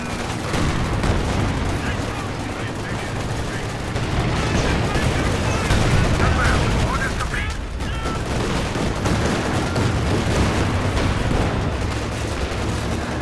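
Gunfire and explosions in a Company of Heroes 2 multiplayer battle, rapid bursts of rifle and machine-gun fire mixed with heavy artillery booms, dense and continuous, under a commentator's talk.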